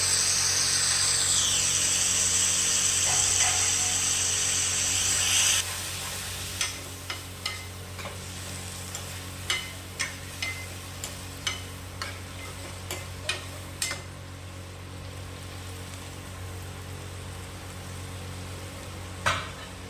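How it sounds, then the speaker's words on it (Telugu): Tomatoes fry in oil in a pan with a loud hiss at first that drops to a softer sizzle, then a series of sharp clinks and scrapes from stirring, with no talking. "కాబట్టి మీరు ఇలా అన్ని టమాటాలు వేసుకోవాలి."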